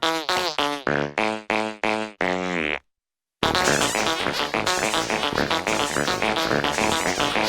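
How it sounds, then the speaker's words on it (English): A cartoon fart sequence from the Family Guy family, played like music: a run of tonal, pitched blasts in a quick rhythm, a short gap of silence, then a dense, loud musical stretch with no talking. "dumb, loud, and able to play music with their farts"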